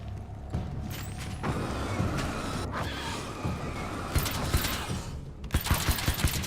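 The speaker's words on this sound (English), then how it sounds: "Dude, look at how many I shoot. It's almost like a submachine gun." Rapid, submachine-gun-like gunfire from Alan Wake's American Nightmare rattles in dense volleys over a steady rumble of ambience, the shots growing crisper and more rhythmic toward the end.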